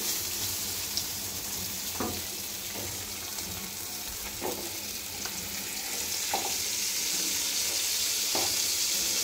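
Sarputi fish fry in a little oil over low heat, giving a soft, steady sizzle with occasional faint clicks and taps, fairly quiet and with no voice.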